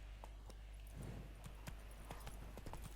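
Roach, the horse in The Witcher 3, walks along with hooves clip-clopping in a steady, fairly soft rhythm at close range, without talk.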